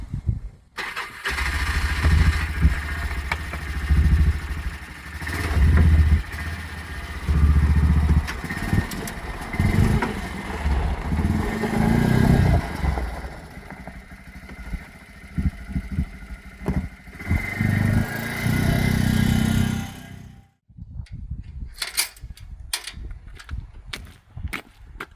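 A quad bike engine runs loud and close, revving and idling with an uneven throb for about twenty seconds before cutting out, followed by scattered clicks and knocks.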